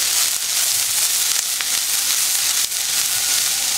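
Diced onions hitting olive oil in a pan for an Alaskan salmon dish, a continuous close hissing sizzle with faint clicks, no voices.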